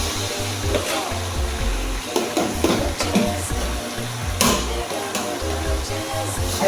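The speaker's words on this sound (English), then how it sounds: "let's fry the onion so that it gives nice aroma" Onion frying in a pan while home cooking, a steady sizzle and crackle with intermittent stirring clatter, close and fairly loud, layered over music.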